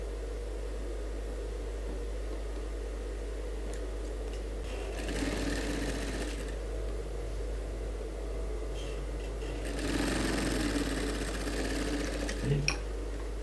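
A sewing machine runs in two short bursts of stitching as the final closing seam goes along a suit sleeve line, a soft whirring chatter over a steady low hum, with quiet pauses between.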